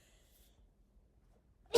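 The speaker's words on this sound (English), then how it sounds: "oh, I gotta sneeze." A single short, sudden sneeze-like burst right at the end, close and loud after near silence.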